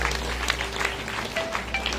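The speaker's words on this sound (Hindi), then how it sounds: "ताली।" An audience claps during a Hindu religious discourse on the Shiva Mahapurana, a steady two-second patter of many hands with scattered sharper claps, moderately loud and with no voice over it.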